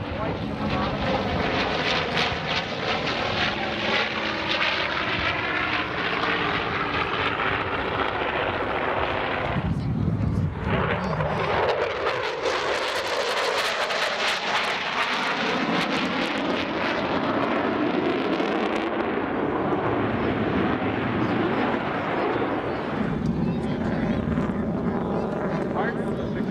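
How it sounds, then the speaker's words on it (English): Loud, steady roar of a twin-engine propeller airplane passing overhead at the 1996 Cleveland National Airshow, filling the whole clip with a droning whine that swells and fades slightly, with voices faintly underneath. "Part of the success of this airplane, two big engines, minimum wingspan"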